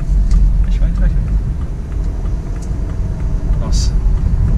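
A rebuilt BMW 320i turbo engine runs at a low, steady rumble on its first start, close by, with a voice talking over it.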